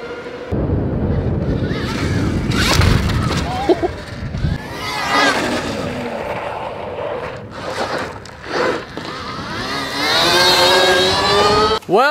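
A Lamborghini races an Alta electric dirt bike, a loud, close car engine revving and roaring through most of the stretch, with wind buffeting and a voice cutting in briefly.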